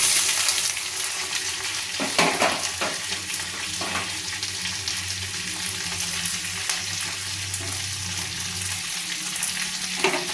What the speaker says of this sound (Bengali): রসুনটা লাল করে আমি ভেজে নিয়েছি, আর রসুনের থেকে একটা সুন্দর গন্ধ বেরোচ্ছে। এখানে আমি যে কেটে রেখে দিয়েছিলাম পেঁয়াজ, ক্যাপসিকাম আর টমেটো, সেটাও আমি কড়াইতে দিয়ে দেবো।